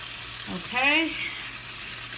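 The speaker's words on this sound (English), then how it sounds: "Okay, it's boiling already." Lemon butter sauce bubbling and sizzling in a hot skillet, a steady soft frying hiss with a brief louder bubbling swell partway through, close by.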